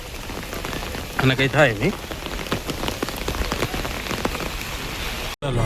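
Monsoon rain pours steadily at Gira waterfall near Saputara, a dense, continuous patter of drops, while people talk briefly over it.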